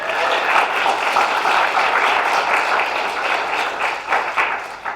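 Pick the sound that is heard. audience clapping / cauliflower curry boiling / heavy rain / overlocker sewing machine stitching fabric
audience clapping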